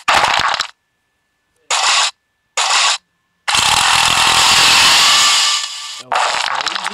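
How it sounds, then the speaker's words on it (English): In the Henry Stickmin bank break-in game, a drill whirs in loud bursts: three short grinding spurts, then a longer sustained drilling run and one final burst, clear and close with silent gaps between. "Okay, you drill straight down"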